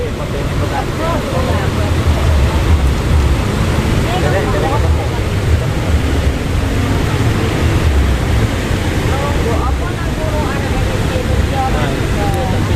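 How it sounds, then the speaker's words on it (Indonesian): The strong current of the Brantas river churns up waves at Rolak Songo, a steady loud rush of water mixed with wind buffeting the microphone throughout, with faint voices under it. "bagaimana ombak yang terjadi akibat dari arus sungai Brantas yang cukup besar"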